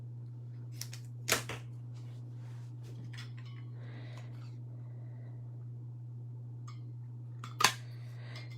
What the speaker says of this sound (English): And then I'm gonna cut here and then do the banner end.